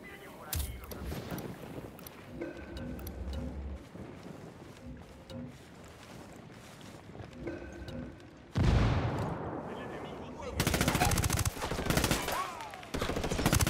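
A mounted machine gun in Ghost Recon Wildlands fires in loud, sustained bursts that grow heavier near the end, with an engine rumble and other game noise in the background.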